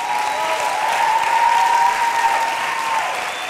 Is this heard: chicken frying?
no